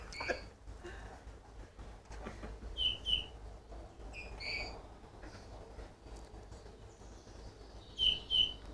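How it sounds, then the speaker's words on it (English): A bullfinch's song plays back as a recording, with soft, thin, squeaky piping notes in short scattered pairs against quiet background hiss. The notes are faint and spaced apart, with a slightly louder pair near the end. "That's it. That's the bullfinch's song"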